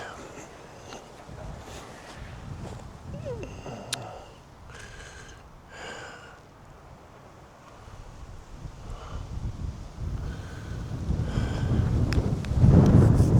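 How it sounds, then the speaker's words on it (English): Strong wind buffets the microphone outdoors on a wet countryside walk in Derbyshire, rumbling unevenly and growing louder toward the end, with people talking now and then. "The wind's just really kicked up."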